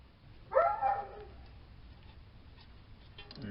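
One short dog bark rings out, a quick double yelp, followed by near silence with faint background noise, during brake hose work on a 2004 Ford Expedition.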